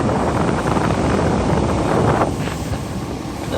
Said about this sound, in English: Alright, AC is working perfectly. Hear the sound of the wind.